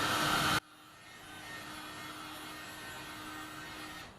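A heat gun blows continuously while warming painted bike frame tubing to soften a label, a steady airy roar held at even level after a brief louder burst at the start, with no talk over it.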